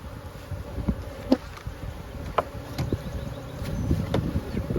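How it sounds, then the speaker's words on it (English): Low, soft buzzing of honey bees close by in a hive's honey super, with occasional faint clicks and knocks, a quiet steady hum with no talking. "We've got bees in this"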